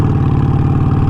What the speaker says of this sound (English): I need to warm up the engine, warm up the fucking oil